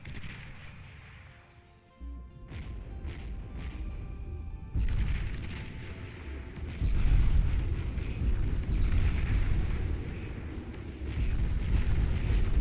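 Heavy naval fire from battleships pounding a front line in the real-time strategy game Beyond All Reason: deep, overlapping booms and explosions roll continuously, growing louder and denser partway through, with no talk.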